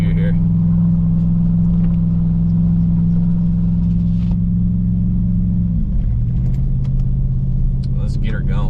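A 2021 Chevrolet Silverado Custom Trail Boss pickup grinds up a steep off-road incline, its engine giving a steady, loud low rumble that drops and shifts pitch near the end as the gear changes.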